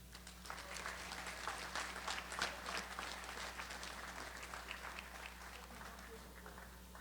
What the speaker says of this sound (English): Let's give a big round of applause to Mr. Rupesh Manak.